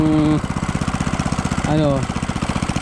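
A backhoe engine runs with a rapid, throbbing chug, close and loud, while a voice talks briefly over it at the start and again near the end.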